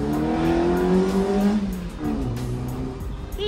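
Renault Clio race car accelerating on the road, a loud engine note rising through the revs, dropping on a gear change, then climbing again.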